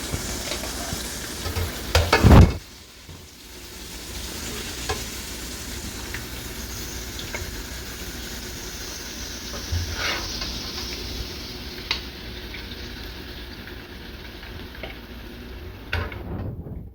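Sweet potato chips frying in hot oil, with a steady loud sizzle running the whole time, a clatter of utensils early on, and a few faint clicks and stirs scattered through.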